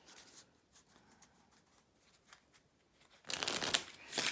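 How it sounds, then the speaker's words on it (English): A deck of good-quality vintage playing cards is shuffled, with soft scattered card handling and then a loud, dense riffle burst near the end, close and alone. "So I'll give them a nice shuffle."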